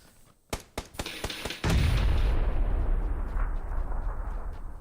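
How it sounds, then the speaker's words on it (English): Gunfire in the battle-royale video game PUBG played on Xbox: several sharp, evenly spaced shots ring out near the start, then a loud sustained boom-like rumble fills the rest of the clip with no talking. "That guy over there to the north is still shooting at us."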